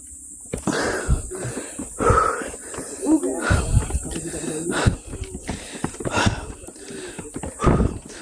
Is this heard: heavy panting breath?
yes